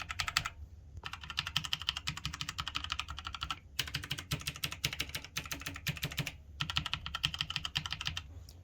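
Typing on a Logitech G513 Carbon mechanical keyboard with GX Brown tactile switches, rapid close clicky keystrokes in bursts separated by brief pauses, with no voices.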